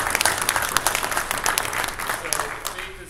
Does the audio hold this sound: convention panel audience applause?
yes